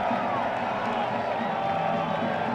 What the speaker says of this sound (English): Joe Dale firing up the crowd